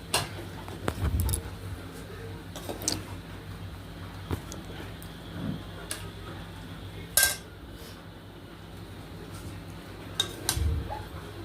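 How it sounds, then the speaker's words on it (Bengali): Egg chowmein being served onto plates for three, with a few sparse clinks and scrapes of utensils on dishes standing out against a quiet kitchen background. "এবার আমি প্লেটে ঢেলে নিচ্ছি"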